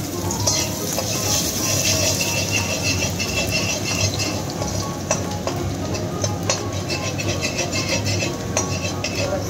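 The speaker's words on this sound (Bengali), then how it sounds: "নাড়া দাও, তো পোড়া লেগে যাবে।" Garlic being stirred in a hot pan on a gas stove while making spicy chilli, a steady loud sizzle with scraping and clinking of the spatula against the metal pan throughout, close up with no talk.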